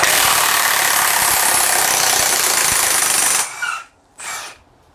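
Milwaukee M18 high torque impact wrench hammering on a large 16 mm bolt, a loud continuous rattling burst that stops abruptly, followed by two short quieter bursts.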